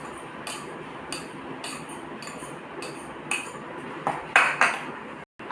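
Dry puffed rice bhel with onion is tossed with a spoon in a bowl, giving light, repeated clinks and scrapes at an irregular rhythm, close and fairly quiet, with no talk.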